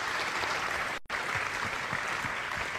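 Audience applause at a regional Talents des Cités awards event, a steady wash of clapping filling the room, briefly cut by a short gap of silence before resuming just as dense.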